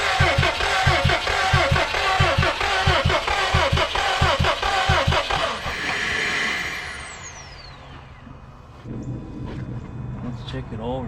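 A salvaged Subaru STI engine cranks over and catches, a loud broadband mechanical roar that fades after about six seconds into a quieter idle, with people talking over it.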